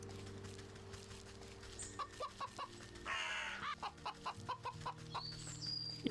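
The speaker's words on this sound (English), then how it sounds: "A pheasant. Not entirely unlike a chicken" A pheasant in the game Wytchwood gives a chicken-like call, a squawk followed by a quick series of about eight evenly spaced clucks over quiet background music.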